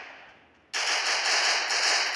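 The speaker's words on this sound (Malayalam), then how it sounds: "വീണ്ടും ഇത് ചിലപ്പോൾ നമ്മളെ വെടിവെക്കുന്നുണ്ട്." Gunfire in a shooting video game bursts in suddenly after a quiet moment and continues as a dense, loud, sustained volley of rapid shots, close and harsh, with no talking over it.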